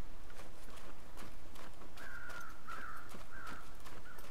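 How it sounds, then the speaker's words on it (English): Crows cawing in The Long Dark survival game, a series of about four harsh caws at steady intervals over a continuous wind-like ambience, with soft footstep-like thuds throughout. "I can see crows then."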